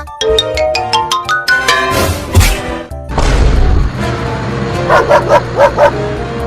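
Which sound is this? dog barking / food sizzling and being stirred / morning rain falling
dog barking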